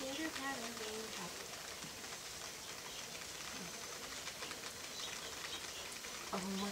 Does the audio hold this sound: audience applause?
no